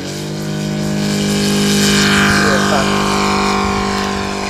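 A Saito 60R3 radial engine on a Top Flite Razorback RC model airplane drones steadily with a buzzing, harmonic tone that swells louder and shifts pitch slightly as the plane passes, then fades a little.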